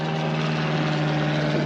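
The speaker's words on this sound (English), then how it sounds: "Got a little plane going over." Small propeller plane passing overhead above a reef dive site, a steady loud drone with no break and no voices.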